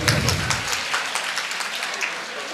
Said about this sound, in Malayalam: ഒരു നിറഞ്ഞ കയ്യടി കൊടുക്കൂ